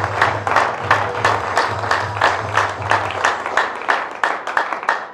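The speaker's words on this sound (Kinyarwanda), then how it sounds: "Komera Imana amashyi menshi cyane." A church congregation clapping together in a steady rhythmic beat, with evenly spaced claps repeating throughout over a low sustained hum.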